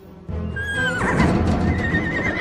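Horses neigh in a bright, rising whinny over a steady clatter of hooves clip-clopping, close and loud, with a second whinny trailing off near the end.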